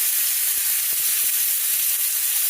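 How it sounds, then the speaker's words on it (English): Unsalted butter sizzles steadily in a cast iron pan over medium-low heat, a dense constant hiss with a few faint taps and clinks near the start. "I'm going to go ahead and add some of that butter, again, unsalted butter"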